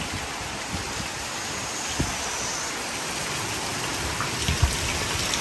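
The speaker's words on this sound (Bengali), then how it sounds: "বড় বৃষ্টি শুরু হয়ে গেছে" Heavy rain pours outdoors in a windy storm during cold weather, a dense continuous hiss with a few louder drips and splashes close by, and no talking.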